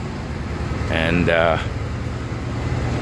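A 1979 Alfa Romeo Alfetta 2.0 idles with a loud, steady, even hum heard close up from inside the car. A person speaks briefly over the engine.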